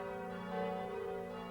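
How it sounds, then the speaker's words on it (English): Church bells rung for Mass at Notre Dame in an animated film, a faint sustained metallic ringing tone that swells slightly midway through a short stretch, with no voices over it. "when Quasimodo rang the bells for Mass"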